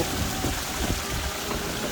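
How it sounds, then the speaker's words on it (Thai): Heavy storm rain pours steadily, a dense, even hiss of drops falling without a break. "ฝนตกนานมากเลยวันนี้"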